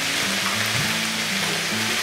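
Beef roulades browning in a frying pan, seared on all sides, give a steady, close sizzle and crackle of hot fat that runs unbroken for the whole stretch.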